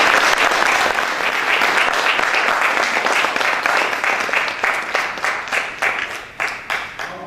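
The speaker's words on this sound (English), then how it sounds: "let us give him a big round of applause" Steady applause from a sizable audience at a quantity surveyors' professional event in Dubai, loud at first and then thinning into scattered claps as it fades toward the end.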